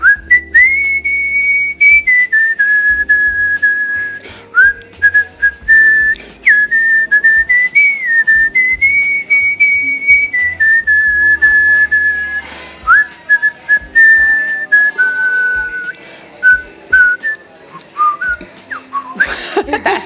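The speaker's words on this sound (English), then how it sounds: "would you like to leave the Phanganist people with a little bit of your whistling" A woman whistles a tune alone, a clear, close melodic line of sustained and sliding notes lasting about twenty seconds, ending in brief laughter or noise.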